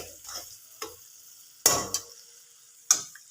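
Tomato and spice mixture sautéing in a pan for a mushroom and potato curry, with a few sharp spatula scrapes and knocks standing out over a faint, soft sizzle.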